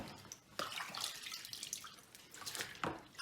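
Tap water rinses soap off hands at a sink, a faint continuous splashing flow with a few louder surges as the hands move through the stream.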